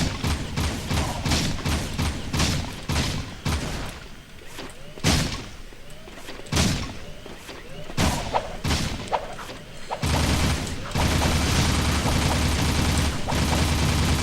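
Repeated bursts of gunfire in the Jak II video game, rapid sharp shots in clusters with thuds and crashes between them, giving way to denser continuous blasting near the end.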